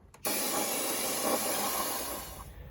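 Brake cleaner sprays from an aerosol can onto the valve covers of a GM 6.0 LS engine in one continuous loud hiss, close up, starting abruptly and lasting over two seconds before tapering off.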